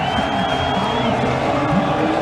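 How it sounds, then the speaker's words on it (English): Dutch fans cheer Verstappen at the 2022 Dutch Grand Prix, a steady wash of crowd roar and whooping with a whistling tone above it, continuous and fairly loud throughout. "Here comes the encouragement from the Dutch fans as Verstappen comes through"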